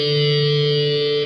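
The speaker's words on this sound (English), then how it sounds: "We're going to play string number 4 open once." A single open fourth string struck once on a distorted electric guitar for the intro of a song, a loud, steady sustained note ringing for just over a second before a quick cutoff.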